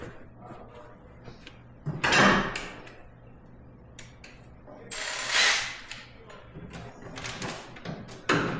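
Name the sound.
zipping doors off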